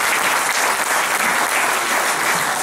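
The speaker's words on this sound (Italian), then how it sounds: "Comunque facciamo un applauso." Sustained audience applause fills an evening gathering in Treviso, a dense, steady clapping from a crowd at a political talk, loud and continuous without pause.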